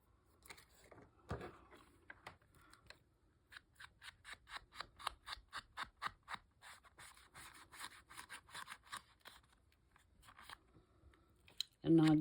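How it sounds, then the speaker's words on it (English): Scissors snip through scrapbook paper in a steady run of short, crisp cuts, close and fairly quiet, with a few faint scrapes around them. "let's ink around it and cut our little angles"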